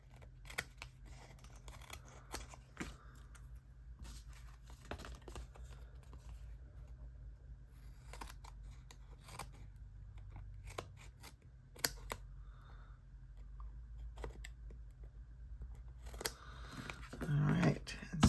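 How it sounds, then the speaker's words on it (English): Scissors snip off the ends of paper strips on a silicone mat, a series of quiet, irregular cuts close by with a few sharper clicks and some handling noise near the end. "We're going to just flip this over and trim off these"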